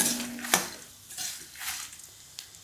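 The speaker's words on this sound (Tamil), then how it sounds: "இந்த மாதிரி நல்லா வறுந்துட்டு வரணும்." Curry leaves and garlic roasting in sesame oil for a drumstick-leaf spice powder, with soft stirring scrapes and a sharp utensil clink against the pan, a faint sizzle underneath, close by.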